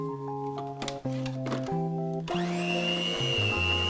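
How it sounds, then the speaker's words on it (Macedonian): An electric mixer beating room-temperature butter for a Caribbean rum cake, a steady whirring motor hum whose pitch shifts as the speed changes, loud and close, growing rougher as it runs. "Ситнам за полесно да го обработи миксерот. Ќе започнеме со пртење."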